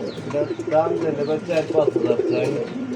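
Art Angel pigeons cooing at a pigeon sale, with repeated soft, throaty warbling coos close by and people talking over them.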